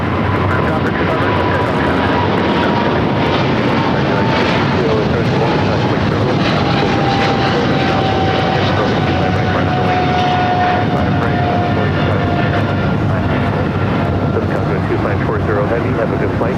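A United heavy jet airliner takes off from runway 25 right at LAX, its engines producing a loud, sustained broadband roar with a faint rising whine, steady throughout and close by.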